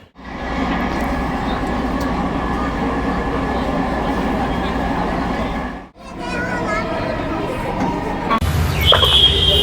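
A steady, loud rumble rides on inside a Dhaka metro train, dropping briefly midway before resuming, with a high whine near the end.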